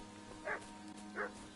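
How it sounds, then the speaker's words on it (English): A dog barks in the medieval role-playing game Kingdom Come: Deliverance 2, two short, fairly faint yelps spaced about a second apart over a quiet background hum. "What's that dog making such a fuss about?"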